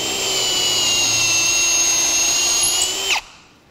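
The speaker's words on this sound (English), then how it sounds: "I kept the drill going when I was pulling the bit back out" A handheld electric drill runs steadily at full speed, boring into wood with a high, even whine for about three seconds. It then cuts off sharply, and no voices are heard.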